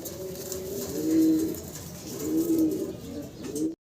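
A fancy-breed pigeon coos close by in two or three rounded, throaty phrases, low and soft, with no other voices around.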